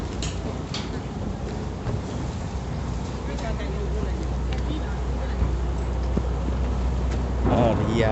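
A boat approaches on a canal in Bangkok, a low steady engine rumble with water wash that grows slightly louder near the end, while people talk over it.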